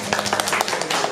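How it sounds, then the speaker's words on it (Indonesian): A high school class claps together in a quick burst of rapid, dense claps, close and fairly loud, lasting about a second. "tepuk tangan."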